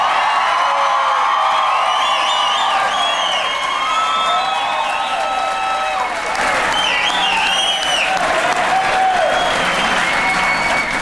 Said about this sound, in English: Let's give them a round of applause for tonight.